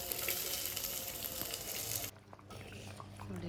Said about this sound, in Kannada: ಈಗ ಒಂದು ಕಟ್ ಮಾಡಿದಂಥ ಈರುಳ್ಳಿ ಹಾಕ್ತಾ ಇದ್ದೀನಿ